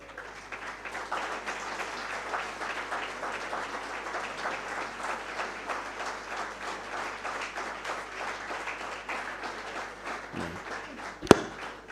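A conference hall audience at an insurance brokers' gathering in Uganda claps for the Sanlam team, steady and even throughout, ending with a single sharp thump.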